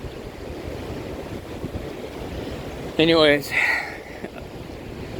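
Waves wash in through rocks and out across the beach on the Lake Michigan shore at Portage, Indiana, a steady surging wash with wind noise under it, briefly covered by a loud spoken word in the middle.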